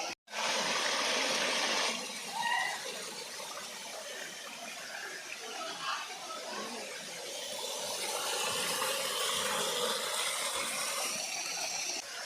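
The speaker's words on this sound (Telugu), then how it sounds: "ఇక్కడ వాటర్ ఫ్లో అవుతుంది కిందికి." Water rushes steadily down a stream near a waterfall, a broad continuous roar that holds at a fairly even level with no talking.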